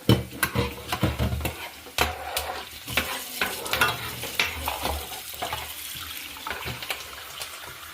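Garlic sizzles in a hot pan while being stirred, with repeated scraping strokes and bursts of crackling that are loud at first and then ease into a softer fry.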